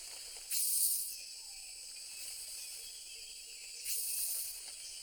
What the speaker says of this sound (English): The trees are full of large insects, cicadas, recently hatched and feeding on sap.